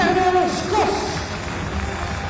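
A crowd at a Heroes Den Bosch basketball game applauds as player number 6 is introduced, a broad, steady roar of clapping and cheering in a large arena, heard under an amplified announcer's voice with echo.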